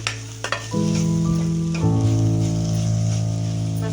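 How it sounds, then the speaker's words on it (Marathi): Kolhapuri masala is stirred in hot oil for a whole masoor curry, a couple of quick clinks and then a loud steady sizzle with a strong low hum running underneath. "म्हणून असा तेलावरती तसा मसाला टाकायचा बघा, चांगला परतवून घ्यायचा."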